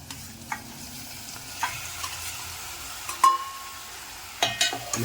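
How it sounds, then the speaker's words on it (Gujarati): Boiled pasta is slowly mixed into a masala sauce in a pan, heard as soft intermittent scrapes and clinks of a spoon against the pan over a quiet background, with a few louder stirring strokes near the end. "ધીમે ધીમે એને મિક્સ કરીશું."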